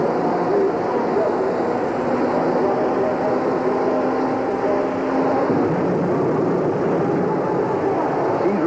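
A jet-powered pulling truck fires up at a 1987 USHRA truck pull in Cincinnati, giving a steady, loud broadband roar that fills the whole stretch with no break.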